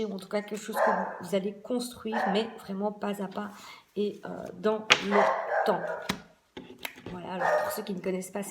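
A pet dog barks and yips intermittently in the background while a person keeps talking in French over it.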